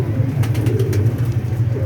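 Pigeons at a rooftop pigeon club coo in a continuous low rumbling murmur, close and loud, with faint rustling and no speech.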